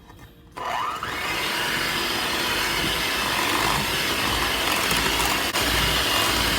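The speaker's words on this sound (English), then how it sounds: "And we're going to mix these on medium speed until they're well combined." An electric hand mixer beats two extra-large room-temperature eggs into churro cupcake batter on medium speed, starting after a brief quiet moment and then holding a steady, continuous whir close by with no talking.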